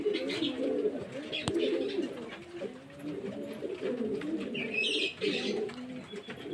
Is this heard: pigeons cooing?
yes